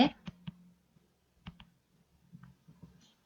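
A computer keyboard shortcut being pressed during spreadsheet work, a handful of light, close key clicks spaced irregularly over a quiet background.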